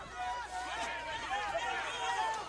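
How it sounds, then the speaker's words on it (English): A loud, boisterous crowd at a professional boxing match between Zab Judah and Ryan Davis, a dense steady roar of cheering and chatter with no pauses across the whole stretch. "Very boisterous crowd here."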